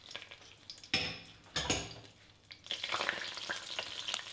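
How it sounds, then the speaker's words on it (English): Dry spices hit very hot oil and ghee in a pot, giving sharp bursts of sizzle and spitting with clinks of a spoon stirring, close and fairly loud with no voices. "Then we're taking some oil and some ghee and heating it up till it's really, really hot. To this we add our dry spices"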